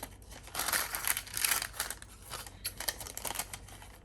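Scissors snip through wax paper in several crisp, crinkly cuts, close up with short pauses between strokes and no talking.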